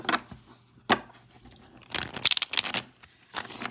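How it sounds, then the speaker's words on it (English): A Celtic Tarot deck being shuffled at close range, with a soft riffle near the start and a longer run of crisp, papery card slaps and flutters in the second half, alone without talk. "Okay, one more little shuffle here."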